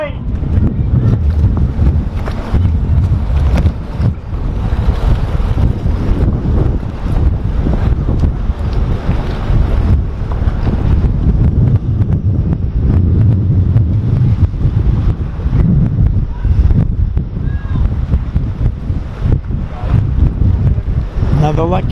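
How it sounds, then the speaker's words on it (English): Strong wind buffets the microphone at Fort Pierce City Marina as a Cranchi yacht with Volvo IPS drives casts off. The roar is loud and continuous, and voices talk faintly beneath it. "The wind's getting him."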